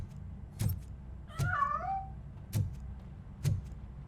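A cat meows in Robocop: Rogue City, one drawn-out wavering meow standing clear among several short thuds and clicks over a low background hum.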